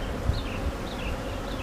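Honey bees from an open beehive holding queen cells drone in a steady, continuous buzz, with faint wingbeat tones rising and falling as individual bees pass close.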